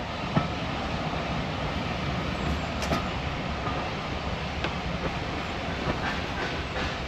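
Steady rumbling train noise with wheel clicks and occasional squeals as a standard gauge train rolls slowly into a very small railway station in Britain, continuous and fairly close.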